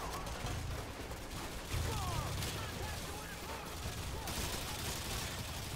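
Call of Duty Modern Warfare 2 gameplay carries steady rapid gunfire with bursts of automatic weapon shots over a dense, noisy game soundscape, set at a moderate distance and continuing throughout.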